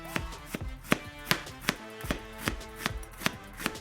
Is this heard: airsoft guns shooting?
no